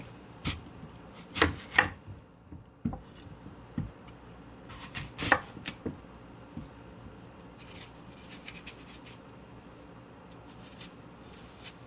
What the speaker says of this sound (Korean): 사과 깨끗하게 씻어서 사과 손질 한번 해볼게요